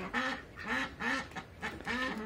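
Several American ducks quack in loud, repeated bursts close by, each call a harsh nasal honk following the last in an uneven rhythm with no talking.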